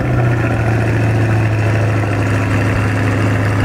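An American sports car with carbon fiber parts idles steadily, a loud, close, low rumbling engine drone that holds even and continuous with no talking.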